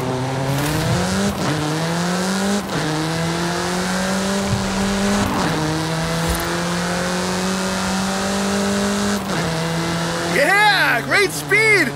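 A car engine in Forza Horizon 5 revs hard and climbs through repeated gear changes, loud and continuous, ending in a burst of squealing tyres, with no speech.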